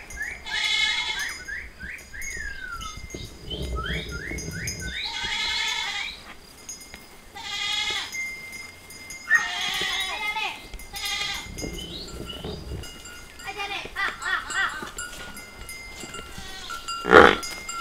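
Goats bleat repeatedly at close range on a farm, their wavering cries rising and falling in loose bursts while people talk and call out nearby.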